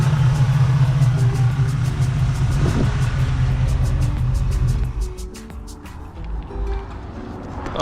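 A car engine fitted with an Edelbrock AV2 carburetor idles in a garage, giving a loud, steady low rumble that eases and dips briefly partway through before picking back up.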